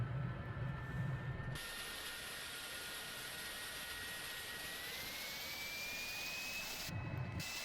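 A simulated jet engine spools up in a flight simulator, with a rising whine climbing steadily over a broad, continuous roar. It is faint and sustained, with no talking.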